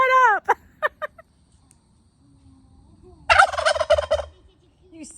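A turkey gobbles near the house, two loud rattling gobble bursts separated by a quiet gap, the first answered by fainter calls, with no talking.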